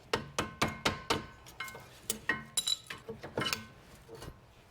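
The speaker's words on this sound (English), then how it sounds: "Before we take the bracket off all the way, we'll get our pads out." Rear brake pads on a 2007-2012 Nissan Altima are worked out of the caliper bracket with tools. The result is a string of sharp metallic clinks and taps, close and moderately loud, that come in quick irregular bursts with no talking.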